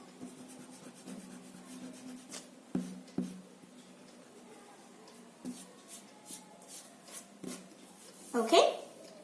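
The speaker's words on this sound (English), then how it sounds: "take our eraser and rub it, the upper line, and with this box we will erase this line" An eraser rubs a pencil line on paper in quiet, scratchy bursts with short pauses, during a paper bookmark craft, under a soft speaking voice.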